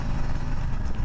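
A 2020 Harley-Davidson Softail Street Bob engine rumbles steadily and close, a loud, even low-pitched throb with no pauses or speech.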